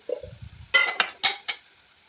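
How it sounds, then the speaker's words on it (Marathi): A spoon stirs turmeric, red chili powder and crushed peanut powder into oil in a pan for a Maharashtrian vegetable dish, producing four distinct scraping clinks against the metal after a soft rattle, with a faint sizzle and no speech. "जे सगळे जिन्नस आपण टाकलेत ते सगळे मी मिक्स करून घेते तेलामध्ये"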